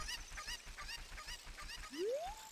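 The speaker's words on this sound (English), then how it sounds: "That damn chicken." A cucco chicken squawks in Zelda: Ocarina of Time, a quick series of faint, high, chattering calls followed by a rising squeal near the end, with no voices.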